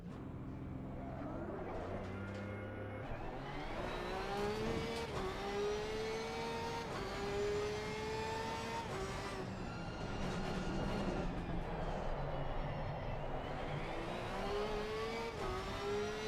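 A Lexus car engine in a racing video game revs and accelerates continuously, its rising and falling pitch sweeping through gear changes, loud and close with no talk over it.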